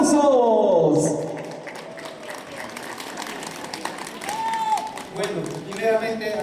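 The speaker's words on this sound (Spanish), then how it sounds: "Los aplausos." Guests at a wedding celebration give a round of applause, moderate clapping from a crowd that rises and falls beneath a speaker's voice.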